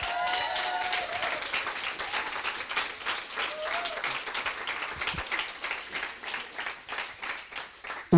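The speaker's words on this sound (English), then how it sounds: "Can I get a round of applause?" A round of audience applause at a London coding bootcamp demo day, steady and moderately loud clapping throughout, with a voice briefly audible over it near the start.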